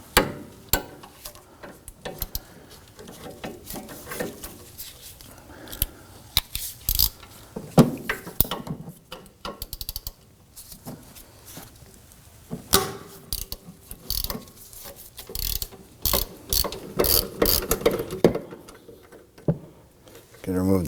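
A ratchet works loose a brake caliper bolt on a 2005–2009 Subaru Legacy during a rear parking brake shoe job, rapid clicking bursts and metallic clatter coming close and loud, with someone speaking in between.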